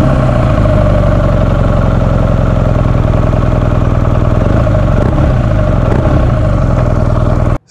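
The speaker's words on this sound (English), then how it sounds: "The exhaust note on this bike, I believe, is one of the best." A 2018 BMW R nine T Urban GS motorcycle engine running close by, a loud, steady, throbbing idle with mechanical clatter that holds unchanged before cutting off abruptly at the end.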